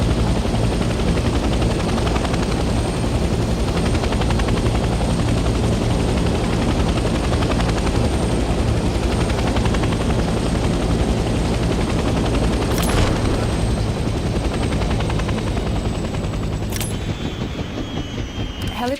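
Helicopter in the Vietnam-era game Hell Let Loose, a loud, close, continuous rotor chop that stays steady throughout and eases slightly near the end, with no speech.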